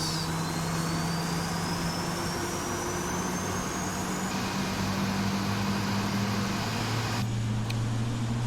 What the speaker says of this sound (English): Okay, engine started.